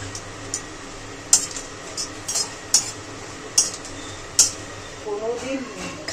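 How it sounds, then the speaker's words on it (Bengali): Dry red chillies are stirred and roasted in an empty wok, producing a series of sharp metallic taps and scrapes from the utensil in an uneven rhythm, with a voice speaking toward the end. "খালি কড়াইতে শুকনো লঙ্কাটা ভেজে নিলাম নাড়াচাড়া দিয়ে।"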